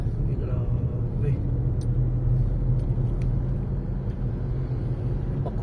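Stop-and-go road traffic in a jam between Cabangan and Iba, Zambales, a continuous low engine rumble of cars and vehicles nearby, with a few faint clicks and people talking intermittently over it.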